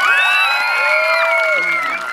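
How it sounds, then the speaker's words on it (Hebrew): A bat mitzvah audience cheers and whoops in a brief, loud burst of excited voices, with children shouting among the crowd. "הם ידעו את זה רק על פי מחיאות הכפיים שלכם."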